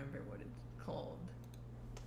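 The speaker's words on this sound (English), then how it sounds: "I was totally typing that." Quiet, rapid clicking of typing on a computer keyboard runs steadily for about two seconds during an online drawing-and-guessing game, with faint whispering underneath.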